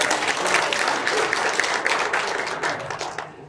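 Audience applause at a public hearing on a city master plan, a dense steady burst of many hands clapping that fades toward the end.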